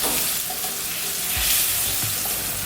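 Cod roe carbonara sauce with bacon sizzles and bubbles steadily in a pan as it reduces, giving a continuous hiss with occasional soft stirring scrapes.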